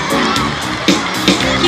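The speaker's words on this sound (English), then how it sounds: "Keep cheering for the athletes." Parents cheer loudly in a dense crowd during a school sports meet relay race, a continuous roar of voices with children's shouts and whoops rising in short bursts.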